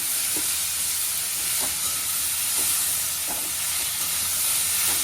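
Potato and papaya pieces seasoned with salt and turmeric fry in a pan, giving a steady, loud sizzle and hiss with a few soft stirring clicks and no talking.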